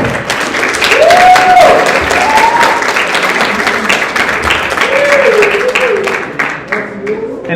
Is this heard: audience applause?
yes